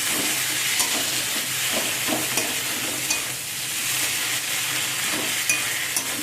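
Ginger paste frying in a pan while being stirred, a continuous close sizzle with soft scraping strokes every second or so, no talking.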